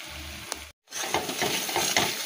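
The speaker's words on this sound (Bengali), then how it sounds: "ডিম ভাজা, এটা বরের।" An egg frying in a pan in a home kitchen, a steady close sizzle and crackle broken by a brief silent gap, then resuming with bursts of spattering.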